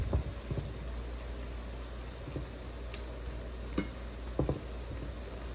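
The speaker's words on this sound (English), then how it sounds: "and stir it up" Pork and vegetables in a stir fry sizzle quietly in a pan with a constant low frying hiss, broken by a handful of soft scrapes and clinks as the mixture is stirred.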